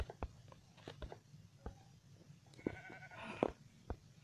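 Minecraft sheep give a few faint, short bleats among quiet game noises, soft clicks and taps in a low-level soundscape.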